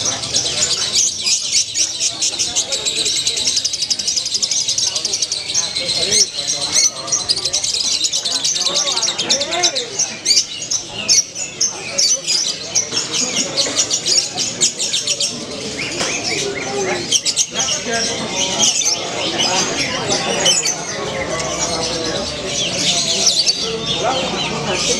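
A bearded bulbul sings busy, rapid phrases of chirps and warbles, loud and close, continuing without pause over a faint background.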